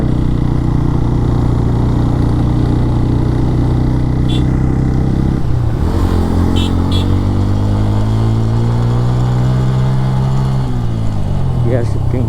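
A motorcycle engine drones steadily on a steep hilly road in Sajek Valley, with its pitch dropping and rising again at two gear changes.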